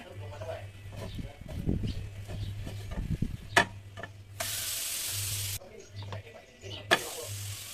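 Orange yogurt pancake frying in a pan as it gets flipped, steady soft sizzle with light scrapes and a couple of sharp clicks, a background hum and intermittent loud hiss, no talking.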